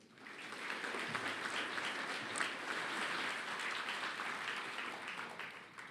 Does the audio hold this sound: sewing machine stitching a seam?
no